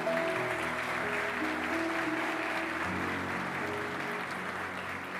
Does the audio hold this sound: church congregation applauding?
yes